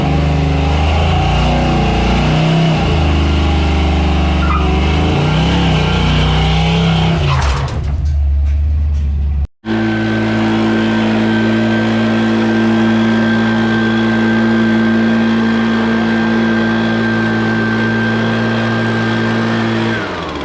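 A car engine runs loud and close after a transmission pan upgrade and shift linkage adjustment, first revving with shifting pitch, then after a brief cut settling into a steady, heavy drone.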